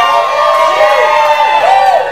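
A crowd cheers and whoops loudly and without a break at a Raw Riverside event, a dense wash of many shouting voices.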